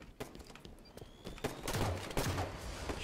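Halo 5 SWAT match gunfire, a scattered mix of quieter distant shots building into louder, denser bursts of rapid fire over a few seconds.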